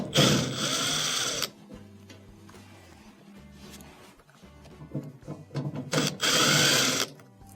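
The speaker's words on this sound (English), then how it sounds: "we have to take off the screws on the block that hold on the actual power cord" A powered driver backs Phillips screws out of a clothes dryer's terminal block, with two loud whirring bursts at the start and end and quieter handling clicks between them.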